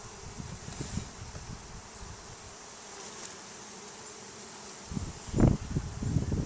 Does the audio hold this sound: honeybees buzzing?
yes